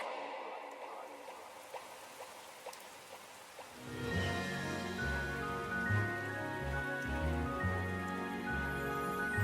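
Rain falls onto surfaces outdoors, starting as scattered light drips and patter, then from about four seconds a fuller, steady downpour joins alongside low rumbling and tonal music-like sound.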